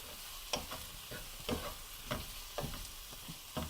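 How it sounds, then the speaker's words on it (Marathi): Onions and tomatoes fry in a pan with a steady sizzle while a spoon scrapes and stirs them at a regular rhythm of about two strokes a second, close and alone without talk. "टमॅटो सुद्धा घालत आहे, म्हणजे त्या टमॅटोला पाणी सुटतं आणि कांदा आपला लवकर नरम होण्यास मदत होते"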